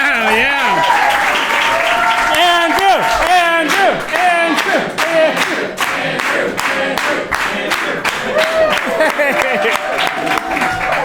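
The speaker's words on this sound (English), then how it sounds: "so we had a half-ass cheer for you" A small crowd cheers and claps, a steady wash of patter mixed with whoops and shouting voices that carries on throughout, loud and close.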